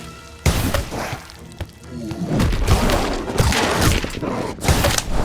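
The Incendio fire spell bursts out in the Harry Potter Magic Awakened game, a sudden loud whooshing blast followed by crackling thumps and impacts amid busy battle effects.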